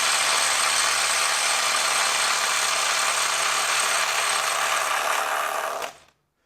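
A Milwaukee M12 FUEL subcompact impact wrench loosens a nut in one loud, steady, rattling whir lasting about six seconds before it cuts off abruptly into silence.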